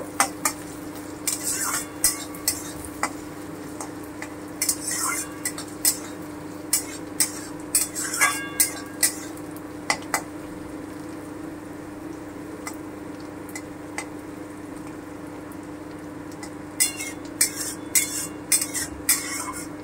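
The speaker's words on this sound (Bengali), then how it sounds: "লঙ্কাটা দিয়ে দিলাম পুরো, একটু ভেজে নেব।" Capsicum and whole green chilies fry in a pan for chilli paneer, with a utensil scraping and clinking against the metal in irregular bursts over a steady low sizzle.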